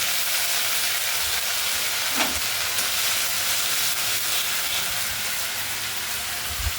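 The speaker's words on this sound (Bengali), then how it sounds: "পেঁয়াজ আদা রসুনটা ভালো করে কষিয়ে নেওয়া হচ্ছে তেলের সাথে।" Onion, ginger, garlic and green chilli paste fries in oil with a dense, even sizzle and hiss, close and constant, with a few soft scrapes of stirring and no talking.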